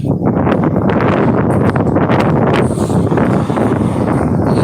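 Strong wind buffets and roars across the microphone in a continuous, loud rush with gusty swells.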